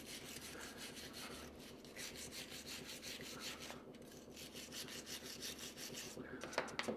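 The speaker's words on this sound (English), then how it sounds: "Also give it a little action with the wire brush." A wire brush scrubs the crusted rear suspension of a 1956 International COE truck in rapid back-and-forth rasping strokes, steady and faint, with no talk.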